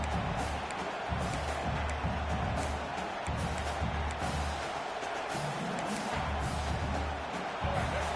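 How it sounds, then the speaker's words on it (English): Broadcast crowd noise fills a football stadium during a game, a dense, continuous roar of many voices at steady loudness throughout with no single voice standing out. "This crowd bringing the energy and noise early."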